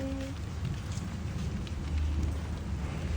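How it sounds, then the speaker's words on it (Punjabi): Steady rain pattering continuously on surfaces, close and even, with no talk over it. "ਅੱਜ ਮੀਂਹ ਆ ਰਿਹਾ ਬਹੁਤ ਮਜ਼ਾ ਆ ਰਿਹਾ"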